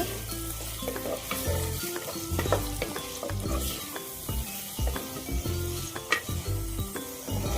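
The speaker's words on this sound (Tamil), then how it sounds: "குட்டி குட்டியாக கட் பண்ணி வச்சுருக்க வெங்காயம் சேர்த்துக்கிறேன்" Chopped onions sautéing in oil in a clay pot for a traditional sardine fish curry, with steady close sizzling and repeated stirring scrapes throughout.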